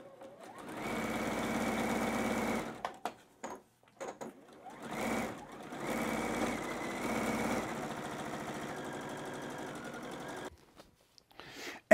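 Short bursts of a sewing machine stitching a batik quilt block, close and moderately loud, stopping and starting several times with brief pauses between runs and no talk.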